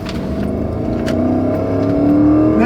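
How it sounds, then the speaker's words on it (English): A big Toyota V8 in a heavy, high-mileage vehicle revs up as it pulls away, a loud steady engine roar with rising pitch that builds over a few seconds. "here goes the big V8 engine"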